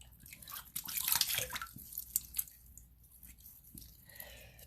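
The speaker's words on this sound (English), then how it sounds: "I'm going to go ahead and get my face wet here real quick" Water splashing and sloshing at a bathroom sink as someone wets their face, with irregular close splashes and drips that fade to softer trickling.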